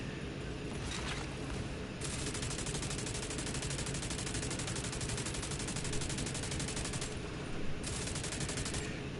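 Proto Salvo weapon in a video game firing in a long, rapid automatic stream, steady and loud, with brief breaks near the start and end.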